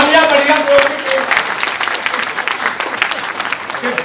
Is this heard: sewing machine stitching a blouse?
no